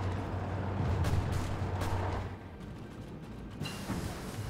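A dive-bombing attack in the strategy game Hearts of Iron IV: a low, rumbling barrage of distant explosions and gunfire that is heaviest in the first couple of seconds, then thins to a quieter, steady battle rumble.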